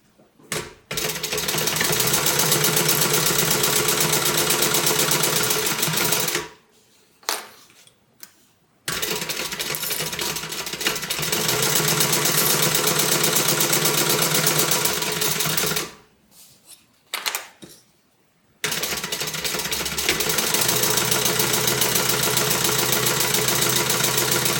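A sewing machine chain-stitches tote bag fabric in three long, steady runs of fast, even mechanical whirring, with brief quiet pauses between them.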